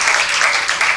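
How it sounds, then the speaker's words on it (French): A school audience at a student event claps steadily to encourage a pupil walking up to speak, with a dense, continuous wash of applause and no words over it. "Pendant qu'il avance, nous allons devoir applaudir pour le motiver."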